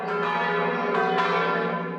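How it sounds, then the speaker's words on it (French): Catholic church bells in Martigny, Switzerland, ringing out to mark the election of a new pope, with a sustained, resonant bell tone and a fresh strike partway through, clear and alone. "les cloches se sont mises à sonner"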